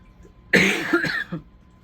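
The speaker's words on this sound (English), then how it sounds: "I apologize for the coughing, as my allergies are no fun." A single close allergy cough with a throat-clearing quality, a couple of rough hacks in quick succession, loud against a quiet background.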